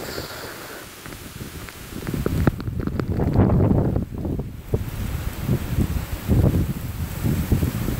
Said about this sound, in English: Here's another gust.